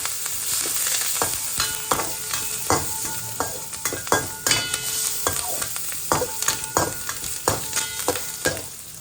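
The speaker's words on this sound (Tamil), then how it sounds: "இப்போ நான் 2 பச்சை மிளகாவும் கறிவேப்பிலையும் போட்டுக்கிட்டேன். அதை போட்டுட்டு நல்லா வதக்கிக்கணும்." Green chillies and curry leaves sauté in hot oil in a pan, a constant sizzle broken by rhythmic scraping and knocking of a spatula stirring close by.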